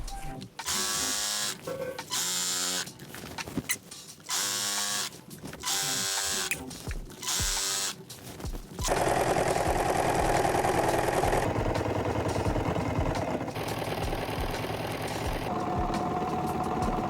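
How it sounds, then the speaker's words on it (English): A sewing machine stitches the corner of a blackout curtain in several loud, close bursts of rapid mechanical whirring, with short pauses between them, followed by a denser, steadier run of machine noise. "We're always going to lift the needle in to be able to lift the presser foot"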